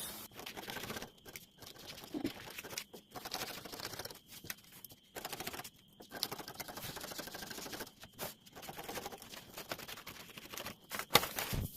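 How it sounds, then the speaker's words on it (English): Scissors cutting a marked fabric pattern, soft snipping and crisp rustling in irregular bursts separated by short pauses, close and fairly quiet. "So I'll just go ahead and I'll cut this out."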